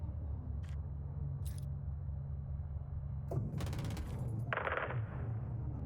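Gunfire from Call of Duty Modern Warfare 2 (2022): a few faint, isolated shots early, then a denser burst of rapid firing, all sitting over a steady low in-game hum with no talk.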